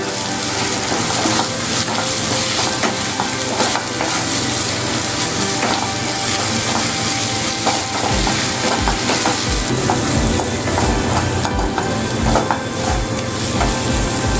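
Ginger garlic paste is stirred into browned onions frying in oil for chicken curry, giving a steady loud sizzle with repeated scraping and stirring of a spoon against the pan.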